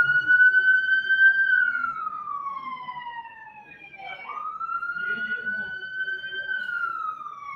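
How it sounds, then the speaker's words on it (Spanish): An ambulance siren wails past on the street beside an institute, a loud, steady rising and falling tone that dips as it passes and then returns, heard indoors with no talk over it. "está pasando una ambulancia"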